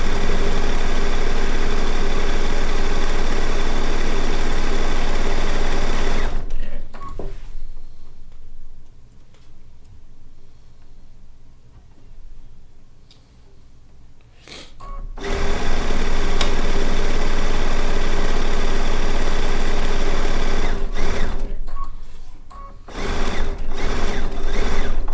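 A sewing machine stitches a quilt row in long, loud, steady runs of rapid mechanical whirring, stopping for a quiet stretch of several seconds before starting again, then pausing briefly once more.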